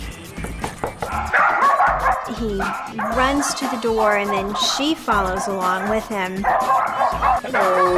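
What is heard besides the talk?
dachshunds barking at the door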